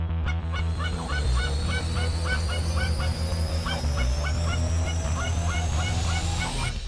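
A flock of Canada geese honking in flight over a Nebraska goose hunt, dense overlapping calls repeating steadily and loudly throughout, with a steady low rumble of wind or engine beneath.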